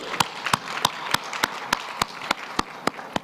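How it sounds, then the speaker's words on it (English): Audience at a trade and investment conference claps as an official is welcomed to the stage. The claps come as sharp, evenly spaced beats, almost a steady rhythm, fairly faint over a quiet room. "Can we give our MEC a round of applause?"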